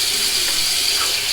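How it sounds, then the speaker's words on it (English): Hot water runs steadily for soaking a shaving soap and brush, a close, loud, even hiss and splash like a tap filling a sink, with no talk over it. "I'm going to soak my soap and my brush in my hot water here to keep it warm."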